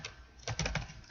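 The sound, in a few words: typing answers on a computer keyboard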